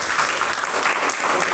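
Steady, dense applause from a church congregation praising Jesus, sustained and fairly loud throughout without breaks.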